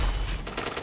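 Rapid automatic gunfire rattles in a shooter video game, a dense burst of close, loud shots filling the moment.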